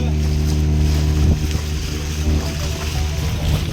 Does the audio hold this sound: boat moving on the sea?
yes